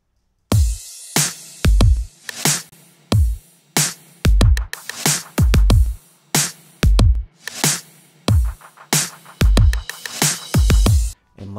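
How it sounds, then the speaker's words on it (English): Short percussive click samples repeat in a steady pop beat alongside punchy low kick hits, each sharp transient crisp and close, playing in a regular groove with no talking. "Next thing that I added was this click sound."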